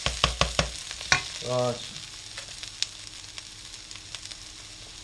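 Ingredients sweating down in a hot pan for a roast pheasant breast dish give a steady soft sizzle, with a few sharp utensil knocks at the start and a brief spoken word.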